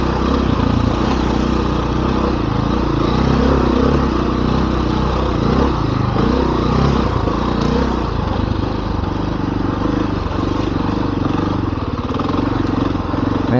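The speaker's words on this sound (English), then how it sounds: "Coming up on some pit bikes here." Small pit bikes ride past on a mountain trail, their engines buzzing and droning loudly and continuously with rising and falling revs, heard over a nearby trail motorcycle's own engine.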